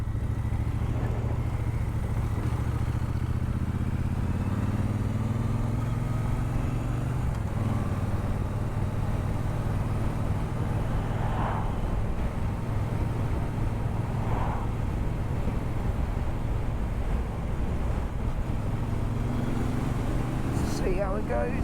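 Steady engine drone of a Triumph Speedmaster motorcycle while riding, a continuous low hum with a slight pitch shift mid-way as it pulls along, under wind noise.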